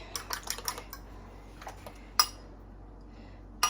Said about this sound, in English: So you're gonna beat up your eggs.